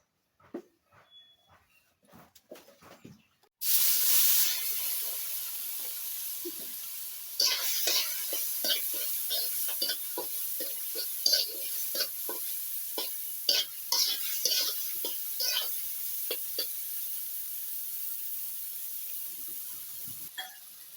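Mustard oil sizzles loudly in a pan for frying banana stem, a steady hiss that bursts in suddenly after a few faint clicks and continues with crackling pops and occasional stirring scrapes.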